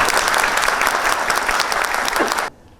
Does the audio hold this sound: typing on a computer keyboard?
no